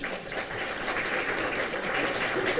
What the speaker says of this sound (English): A round of applause for Casey.